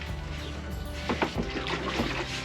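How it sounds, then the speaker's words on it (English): Water splashes and trickles into a watering can in a garden, a steady liquid pour with a few louder splashes, close and alone with no talking. "put this into the watering can"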